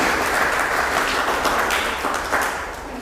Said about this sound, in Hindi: तालियां हो इस छोटी सी बच्ची के लिए।